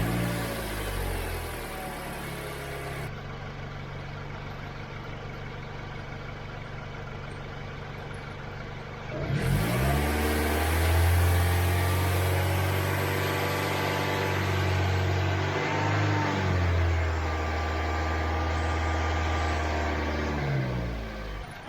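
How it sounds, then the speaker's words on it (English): Toyota Corolla with a failing alternator cranks and catches, idles steadily, then is held at raised revs around 2500 RPM with a louder, deeper engine drone before settling back. "now it wants us to increase the RPM to 2500 and keep it there for about 5 seconds"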